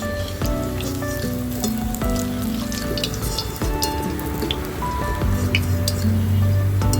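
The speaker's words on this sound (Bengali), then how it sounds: "টিক্কিগুলো দুদিকে উল্টে পাল্টে লাল লাল করে ভেজে নিয়েছি" Semolina and potato tikkis frying in a pan, a close, bright crackling sizzle with scattered pops, accompanied by a tonal musical background throughout.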